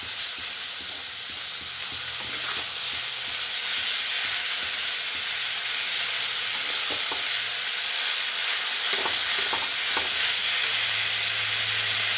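Chopped banana stem frying in a pan, with a steady close sizzle running throughout and occasional scraping strokes as it is stirred.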